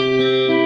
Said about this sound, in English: let's listen to this bath oil spring reverb, which is E. It sounds weird.